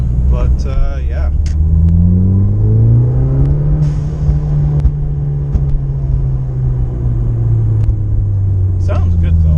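A Ford Fiesta ST fitted with a RamAir drop-in filter revs loudly and close by, its engine note rising and then holding a deep, steady drone with strong low rumble, while a person talks over it.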